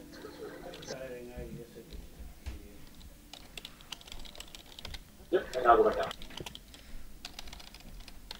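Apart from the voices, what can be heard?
computer keyboard typing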